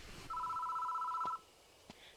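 A telephone rings once in the horror game Death Mark, a single sustained electronic trill lasting about a second against a quiet background.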